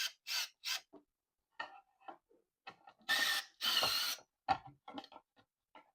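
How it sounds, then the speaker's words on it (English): A screw is driven in while installing a shelf, with a ratcheting tool giving short bursts of crisp clicking separated by pauses. "I'm going to go ahead and screw this in the rest of the way"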